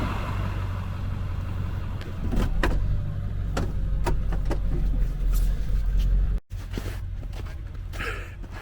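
A car engine rumbles steadily at close range while driving through snow, with crunching, scraping noises under the tires, briefly cutting out near the end before resuming.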